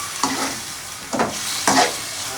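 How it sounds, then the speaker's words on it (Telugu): Chicken mixed with blood being stirred in a pan, wet sizzling scrapes in three separate strokes over a steady background fry, close and moderately loud, no voices. "బ్లడ్ వేసినాక బాగా కలపాలి."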